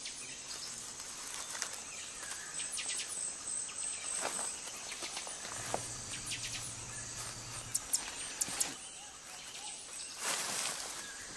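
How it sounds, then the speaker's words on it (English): At night in a forest, frogs and insects form a steady chorus: a constant high shrill buzz with scattered sharp chirps and calls, some louder bursts near and others faint in the distance, with no voices. "It's easy to nod off when serenaded by a chorus of frogs and insects."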